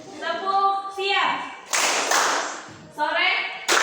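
A school class doing a rhythm clapping game, bursts of many hands clapping in unison alternating with a teacher and children chanting words between the claps, close and lively.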